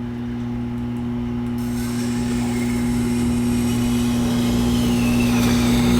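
A knife blade is ground on a Tormek T-8 sharpening machine, giving a steady motor hum with a constant tonal drone and faint scraping of steel against the wheel, close and unbroken.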